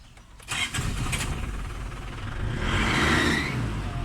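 2008 Isuzu D-Max engine cranking and catching, then settling into a steady near idle with a slight rise in revs toward the end, no talk.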